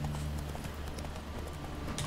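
Steady rhythmic clip-clop of a horse's hooves in the video game The Witcher 3: Wild Hunt over a constant low hum, moderately loud and continuous with no voices.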